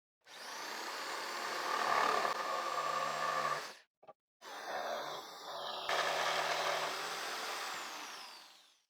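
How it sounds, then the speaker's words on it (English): A jigsaw cuts wood along marked lines, a buzzing, rasping motor drone that runs close and steady, stops briefly for a moment, then resumes for several more seconds before cutting out. "With the jigsaw, I'll cut along the lines."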